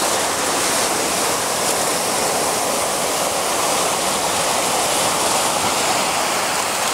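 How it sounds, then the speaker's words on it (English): Ocean surf washing onto a shore at sunset, a steady dense broadband roar of breaking and receding water, loud and continuous with no talk. "Just got to wait for a wave to come in to get some nice water movement"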